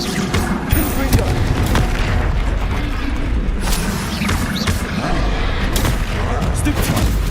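Booming Confringo fire-spell blasts and combat impacts from the Hogwarts Legacy video game, a dense, loud, continuous barrage of bangs and crackles with no pauses.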